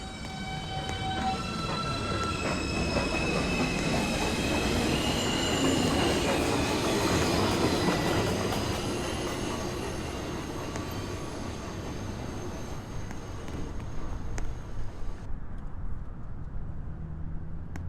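A New York subway 2 train, Manhattan-bound, rumbling loudly out of the station, with steady wheel noise, squealing rail tones and clatter that build and then ease as it pulls away, with no voices.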